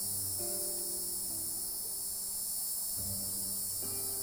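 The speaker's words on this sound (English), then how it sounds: "We want children 75 years from now to hear the cicada chorus for themselves." A cicada chorus in the video game Lost Odyssey forms a steady, high, shimmering drone that holds throughout, with low tonal music humming underneath.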